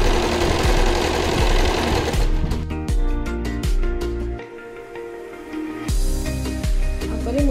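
A sewing machine stitches fabric for a hair bow in loud, rapid mechanical bursts, pausing briefly in the middle and then running again, close and alone.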